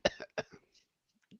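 Someone coughs several times in a quick, close burst, followed by softer throat sounds and faint trailing noises.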